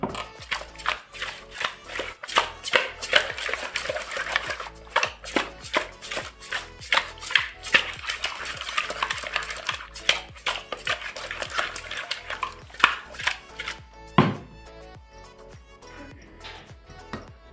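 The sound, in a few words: mixing spices for fish curry with spoon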